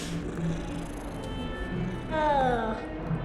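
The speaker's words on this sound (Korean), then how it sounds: "고양이다." A cat in Hogwarts Legacy lets out a single drawn-out, wavering meow partway through, set over steady game ambience and a soft musical bed.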